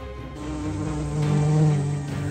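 Buzzing bee in an old film scene, a steady, droning insect buzz that is close and continuous, swelling slightly louder midway, with no talking.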